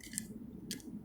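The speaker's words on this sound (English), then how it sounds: "I'm going to shuffle a little more." Tarot cards being shuffled give two short, crisp papery bursts close by, with quiet room tone between them.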